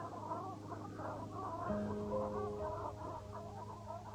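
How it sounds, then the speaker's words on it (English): Faint honking and clucking calls from a flock of black geese drift across a field, distant and low, under a steady hum of wind. "Presume they're the black geese we were supposed to look for."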